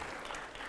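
Audience applause in a Hindi-language rapid-fire interview event, a steady wash of clapping through the short moment, fairly faint and without any clear voices over it.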